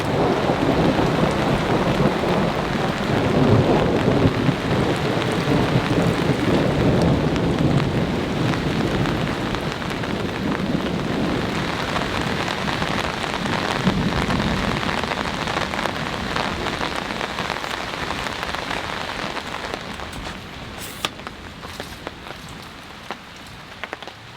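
Heavy rain drums steadily on a Swedish tent at a campsite, with deep rolling thunder building early on, the downpour easing slightly toward the end with a few distinct drips.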